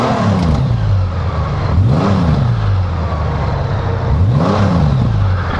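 The engine of a 2018 Honda Gold Wing motorcycle revs through its exhaust: a close, loud, car-like hum from a steady idle, rising twice in quick throttle blips and settling back each time.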